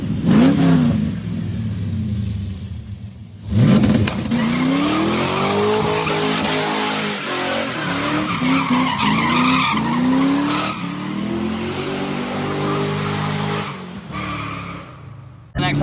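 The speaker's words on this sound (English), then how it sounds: "So I did a donut leaving his house." Duramax diesel truck spinning a donut, with long wailing tire squeal rising and falling over a revving engine, loud and close, swelling again near the end.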